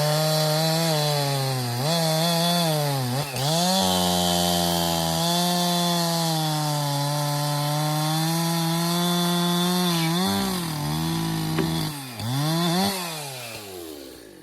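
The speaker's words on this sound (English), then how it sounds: "This saw is not exactly sharp and cutting up to its specs." A dull chainsaw drones loudly and continuously as it cuts through wood, its engine pitch sagging and recovering under load with brief dips as the bar bites deeper.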